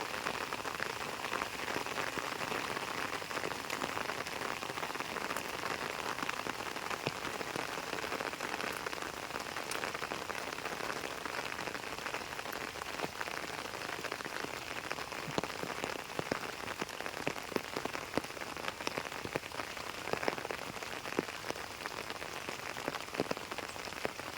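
Monsoon rain pours onto a vegetable garden where beans are being harvested, a steady, even hiss of countless drops striking leaves and ground, with no voices, lasting unbroken for the whole stretch.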